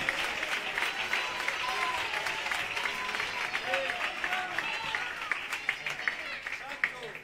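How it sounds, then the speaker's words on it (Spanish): Church congregation applauding together in a dense, sustained wash of clapping and cheering voices filling the room. "Dale un aplauso a aquel que vive y que reina"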